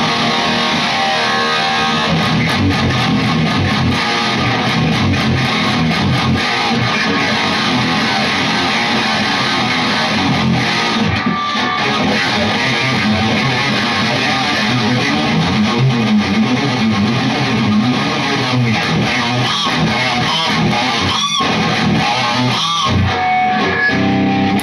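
A heavily distorted electric guitar plays continuously, thick and saturated, with dense chugging riffs and sustained crunchy tone throughout, no voices.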